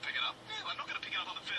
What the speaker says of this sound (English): Hang on a second, phone call.